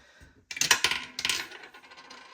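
Several dice clatter down a dice tower in a quick burst of sharp rattling clicks and bounces, close and fairly loud, settling into a few softer ticks before going quiet.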